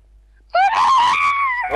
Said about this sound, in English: Okay, don't scream like that.